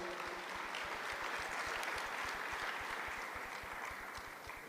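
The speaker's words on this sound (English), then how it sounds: "A round of applause." Audience applause at a South African G20 education event in Free State, a dense, steady wash of many hands clapping throughout, fairly even in level with no voices over it.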